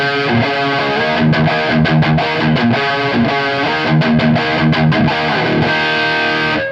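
Electric guitar played through a Victory Super Sheriff VS100, a modified classic EL34 tube amp, on its tight high-gain setting. It plays a loud, continuous distorted riff with chugging palm-muted notes and sustained chords, with no voices.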